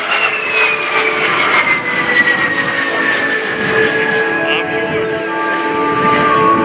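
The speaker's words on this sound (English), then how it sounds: "he's going to do his brake to landing here in just a second" A de Havilland Vampire jet flies past at an air show, a loud sustained whine with a slowly falling pitch as it passes, with an announcer talking over it.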